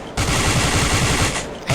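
Rapid automatic fire from an M4 rifle in the CrossFire mobile game, heard as a loud, dense burst lasting about a second and a half, then a short pause before another shot begins.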